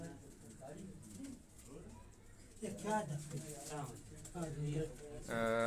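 Champion high-flying Khalifa pigeons coo softly in the background while someone talks over them at length in a lively voice, the birds' low calls running beneath the speech.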